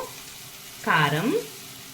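Tomato pieces fry in hot oil for a street-style chaat, giving a steady soft sizzle with one brief squeaky scrape of stirring in the middle.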